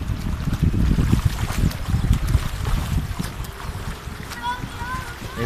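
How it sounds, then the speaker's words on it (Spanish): The river at Nazca flows as a rushing, gurgling wash with gusty wind buffeting the microphone, loud and close, while people talk and call out over the water. "Estamos en el río de Nazca."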